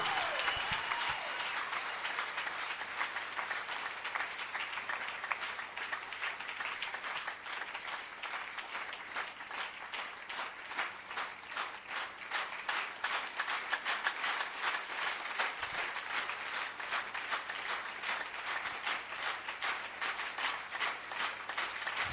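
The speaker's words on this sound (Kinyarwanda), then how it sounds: "dukomera Imana yacu amashyi menshi cyane" A church congregation applauds continuously for over twenty seconds, a dense, even patter of many hands clapping at a moderate distance, with no talk audible.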